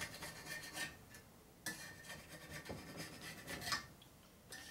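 Old sealer is scraped off a 1990s Harley-Davidson Evo Sportster motor case, giving faint, intermittent rasping and scratching strokes in short bursts with brief pauses between them.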